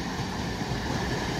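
An up local train heading toward Bandel Railway Junction roars past at high speed, a loud, steady, broadband rumble with no voices.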